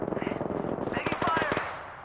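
Rapid automatic gunfire in the Apex Legends game, bursts of evenly spaced shots throughout, loud and close, with a player's voice talking over the shooting.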